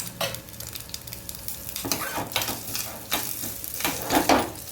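Steady sizzling of coconut roasting in hot ghee, with a spoon scraping and stirring the pan at intervals, close and continuous.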